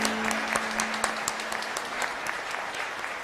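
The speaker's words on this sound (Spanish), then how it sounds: "Fuerte aplauso para todos." A church congregation at Easter Mass claps loudly and steadily for a few seconds, a dense wash of applause filling the space.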